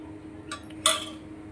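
A spoon clinks against a metal thali while idli and sambar are served, two quick bright clinks close by in a quiet room.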